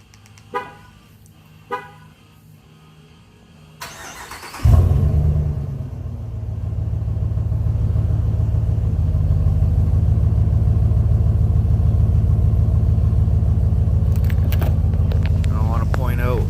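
A 2019 Ram 1500 pickup with stock resonators starts with a few sharp clicks and knocks, then settles into a steady, deep, droning exhaust idle that holds loud and even to the end.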